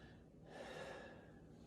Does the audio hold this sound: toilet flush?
no